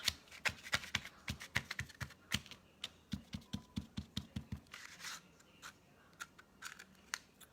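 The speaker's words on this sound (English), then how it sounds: "I might trim this piece down" Craft material trimmed with scissors, a quick series of crisp close snips and rustles in an uneven rhythm, quiet and without talk.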